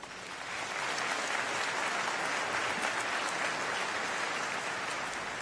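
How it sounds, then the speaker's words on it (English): Sustained applause from a crowd at a high school graduation, steady and fairly loud throughout, a dense wash of clapping with no voices standing out. "Please give each of them a round of applause"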